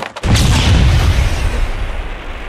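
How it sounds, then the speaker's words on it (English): A smoke grenade in an Unreal Engine 5 shooter goes off with a single heavy, close blast, then a broad hissing rush of smoke that slowly fades, with no voices. "So when I throw a smoke grenade,"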